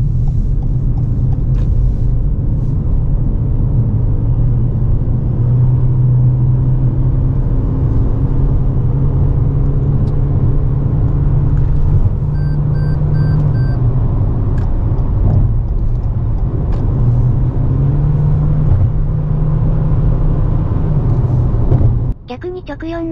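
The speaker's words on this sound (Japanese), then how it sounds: "深夜のバイパスに乗って、高速域での走りも確かめましょう" A Toyota Corolla Cross Hybrid cruises at high speed on a bypass at night, heard from inside as a steady, loud low rumble of road and engine noise that holds for over twenty seconds before dropping away.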